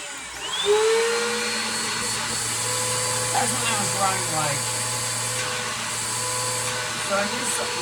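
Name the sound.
Bissell Powerforce Helix vacuum cleaner running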